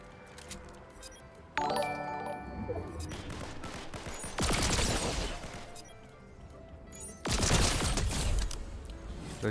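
Lock-on pistol gunfire in the Fortnite video game: two loud bursts of rapid shots ring out over background game noise, with clinking mechanical sounds earlier.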